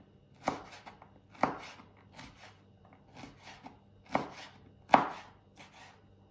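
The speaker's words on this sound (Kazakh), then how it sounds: "Мінекей, өте таза, тамаша май, сондықтан турай беремін." A knife chops through clean fat on a cutting board, with a series of soft, irregular thuds and scraping strokes, close and quiet, with no talking over them.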